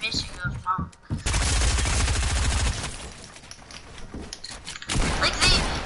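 Video game gunshots, an opening flurry of sharp shots followed by a sustained rapid automatic burst, then quieter scattered firing and a final loud volley, with a player's voice talking underneath.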